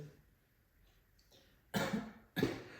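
Two sharp coughs from a patient close together near the end, following a quiet stretch with faint background noise.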